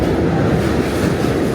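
New York subway W train riding toward Astoria, Queens, a loud, steady rumble with rhythmic clickety-clack of wheels on track, heard close from inside the car.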